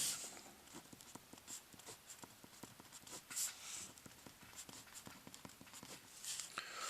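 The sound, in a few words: writing equations by hand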